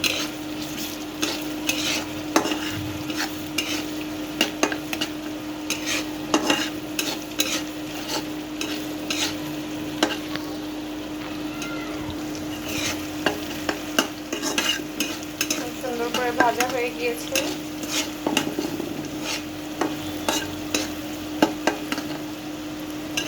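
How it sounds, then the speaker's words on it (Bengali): Steady sizzling of onions frying in a pan, with repeated scraping and stirring clinks, no voices. "সুন্দর করে লাল লাল করে ভেজে নিতে হবে পেঁয়াজ ভাজার সময়"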